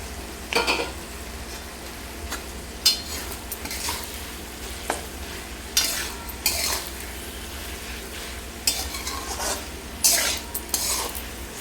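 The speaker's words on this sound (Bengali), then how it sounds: "মশলা দিয়ে বেশ কিছুক্ষণ পেঁয়াজ কলিটা ভাজার পরে আমি এতে দিয়ে দেবো ভেজে রাখা ফুলকপি আর আলু" A spatula stirs onion stalks, fried cauliflower and potato in spices in a pan, with repeated scraping strokes and clinks over a continuous low sizzle; no voices.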